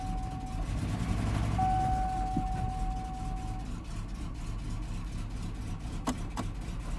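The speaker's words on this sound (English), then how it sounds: "I'm trying to go from high to low RPMs here" Engine of a 1997 hearse running steadily, its low rumble easing from higher revs toward a lower idle, close and continuous with a few faint clicks near the end.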